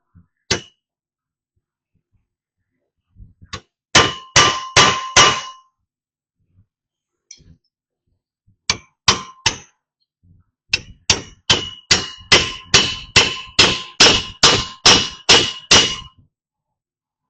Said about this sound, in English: Got the chisel and the hammer.